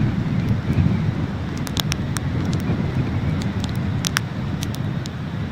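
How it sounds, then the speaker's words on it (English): Strong storm wind at Lido Beach buffets the microphone in a constant low roar, with a few faint clicks and taps scattered through. "You can see how much the wind is kicking up."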